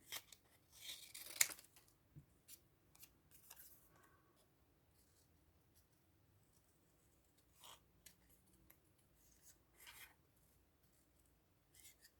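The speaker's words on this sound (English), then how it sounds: "Let's cut out this little one." Scissors cutting a small paper butterfly out of a printable journal sheet, close, quiet snips and paper rustles arriving in short irregular bursts with pauses between them.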